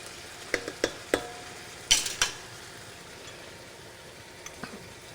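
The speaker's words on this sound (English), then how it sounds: "I have 3 cloves of garlic minced. Just stir that in there a little." Minced garlic stirred into a pan gives a faint, low sizzle with a few sharp metallic taps and scrapes of the utensil early on, close and quiet, with no talking.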